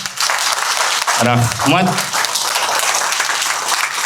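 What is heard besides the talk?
audience applause to open school event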